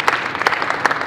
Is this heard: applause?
yes